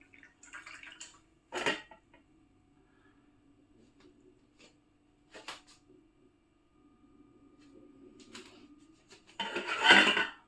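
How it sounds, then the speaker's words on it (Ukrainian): Currant and redcurrant pulp is squeezed by hand to press out the juice, giving a few separate wet squelching and rubbing bursts between quiet gaps, the last one the loudest. "Здушу це все. Сік зляю назад у відро, а решту викину."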